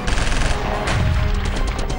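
Gunfire from BSF retaliatory firing on the India-Pakistan border: dense bursts of shots crackle continuously, loud and close, with heavy rumbling reverberation.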